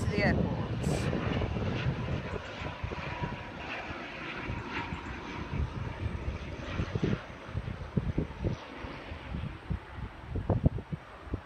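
A Stobart Air airliner comes in to land at Southend Airport, its engine roar and wind rumble steady and moderately distant, with people talking over it throughout.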